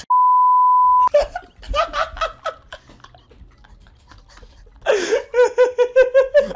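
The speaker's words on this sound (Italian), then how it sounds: "è bippata perché il black humor non piace alle persone" A single steady censor bleep lasting about a second, followed by talking and bursts of close laughter.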